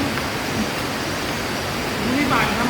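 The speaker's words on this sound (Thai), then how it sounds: "ตอนนี้เรามาถึงน้ำตกผาตาดแล้" Pha Tat waterfall in Thong Pha Phum, Kanchanaburi, sends up a steady broadband rush of falling water, constant and close, with faint voices briefly audible over the roar.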